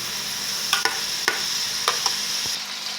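Egg and chicken frying together in a pan for chicken fried rice: a continuous bright sizzle with a few sharp spatula scrapes and taps, close up, no talking.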